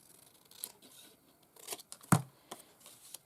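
Scissors snip paper for a handmade collage craft, a few quiet separate cuts with a sharper crisp snip near the end, in a calm room.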